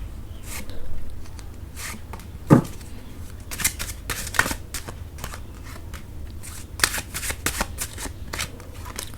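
Tarot cards being shuffled by hand, a series of close, crisp riffles and flicks with short pauses between bursts, no talking.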